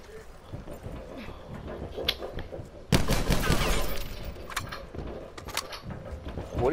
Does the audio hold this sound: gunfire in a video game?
yes